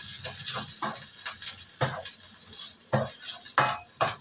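Curry paste for a Thai jungle chicken curry stir-fried in a pan: repeated scraping and tapping strokes of a utensil against metal at an irregular pace, close by, with a faint sizzle underneath.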